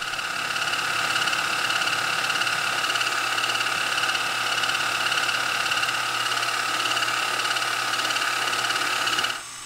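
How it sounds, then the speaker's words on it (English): A half-inch flat-bottom hole is being cut into a knife pommel, likely on a machine, with a steady, loud mechanical whine and hum. It stops abruptly at the end. "So I'm just cutting a half inch diameter hole with a flat bottom here now."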